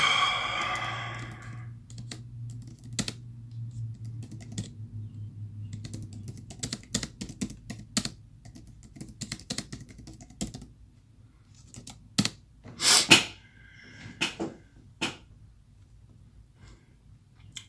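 Computer keyboard typing in irregular bursts of sharp key clicks, close and moderately loud, with a low hum and breathing in the opening seconds.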